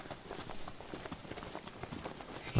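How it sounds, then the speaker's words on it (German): A horse-like creature in the video game Final Fantasy 15 gallops with quick, rhythmic hoofbeats, fairly soft and uneven, ending in a sharper thump. "Es ist ein Pferd."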